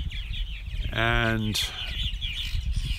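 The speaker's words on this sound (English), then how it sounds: "we have about, in round numbers, about 150 baby purple martins this year" Purple martins, adult birds and babies, chatter and chirp continuously in the evening, with one loud harmonic call standing out briefly. A person talks over the birds.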